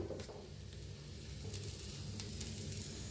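Cauliflower-stuffed gobi paratha sizzling in ghee on a hot tawa, a soft steady frying hiss with faint crackles, quiet and continuous with no talk over it.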